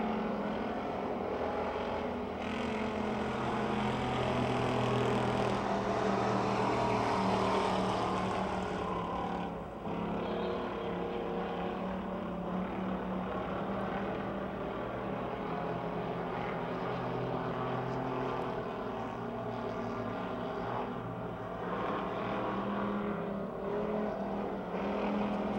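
Race cars lap Pennsylvania Motor Speedway near Pittsburgh during a six-lap heat, their engines a continuous loud roar with slight swells as the pack circles the track.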